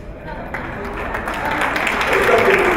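An audience at a school district's State of the District address breaks into steady applause that grows fuller and louder, filling the hall while a voice carries on over it.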